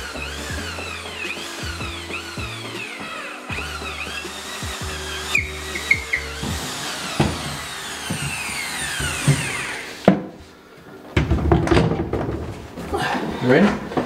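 A power drill bores up through two stacked 4x2 timber sole plates, its motor whining in long steady runs broken by short pauses, close and loud, ending with clattering handling noise.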